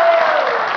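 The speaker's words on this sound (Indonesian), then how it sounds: "tepuk tangan untuk Daniel." Audience applause at a youth camp gathering, a dense, steady wash of clapping that stays loud and even throughout the short moment.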